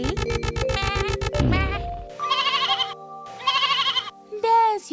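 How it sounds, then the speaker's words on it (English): A lamb bleats in an animated farm-animal story: a buzzy, pulsing opening, then two drawn-out wavering bleats and a short final cry, loud and close. "You are a lamb, a sheep's baby, so you bleat."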